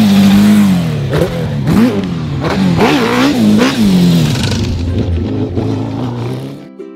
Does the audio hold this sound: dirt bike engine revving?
yes